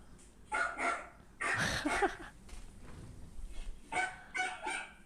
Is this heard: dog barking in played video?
yes